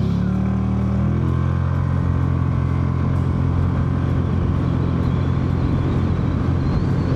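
A Hero Destini 125 scooter pulls away from a standstill, its engine note rising steadily with loud, continuous wind and road rumble close by, no talk over it.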